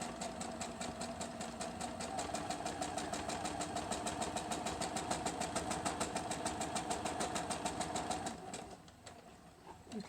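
Sewing machine stitching and back stitching the seams of a fabric mask, a fast even mechanical whir with regular needle clatter, close and steady, stopping near the end.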